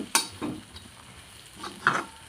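Cauliflower bhaji being stirred in a pan, with a few soft scraping strokes and a light sizzle, close and moderately quiet, no one speaking.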